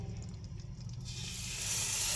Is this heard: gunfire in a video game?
no